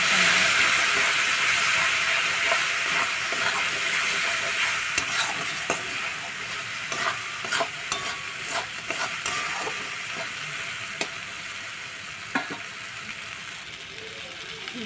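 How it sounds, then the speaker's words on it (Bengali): Chilli powder and other spices frying in a pan as they are stirred, a steady loud sizzle with scraping stirring strokes throughout, no talk over it. "দেখতে পাচ্ছি মশলা ভাজা হয়ে গেছে"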